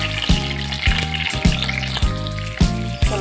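Cashews and green chillies frying in hot oil for an onion tomato masala, a steady close sizzle with repeated sharp crackles and pops at irregular intervals.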